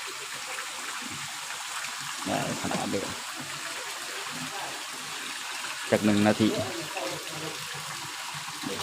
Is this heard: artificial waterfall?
yes